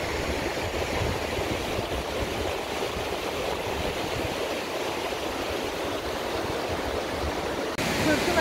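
The Fırtına Deresi river rushes through its valley, giving a steady, dense roar of flowing water that stays even and continuous throughout, fairly close by.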